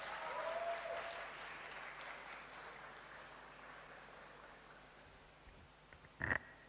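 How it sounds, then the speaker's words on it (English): Applause from an audience at a school of pharmacy white coat ceremony fades gradually from a moderate level to quieter clapping, with a brief louder burst near the end. "Please let's welcome him with a round of applause."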